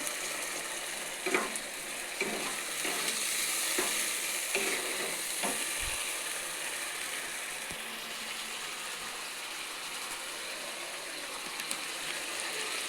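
Chopped tomato frying with ground spice paste in a hot pan, a steady close sizzle with occasional stirring scrapes and clicks, no talk.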